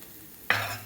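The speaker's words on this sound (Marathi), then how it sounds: "त्यानंतर अजून थोडंसं बटर आपण यामध्ये टाकायचं आहे." Butter for pav bhaji hits a hot pan and bursts into a sudden close sizzle that holds steadily and then eases slightly.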